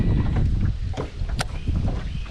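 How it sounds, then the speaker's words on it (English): Steady wind buffets the microphone with a low, constant rumble on open water at Windy Point during bass fishing from a boat. No one speaks. "I love the wind coming right into this."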